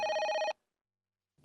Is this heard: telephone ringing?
yes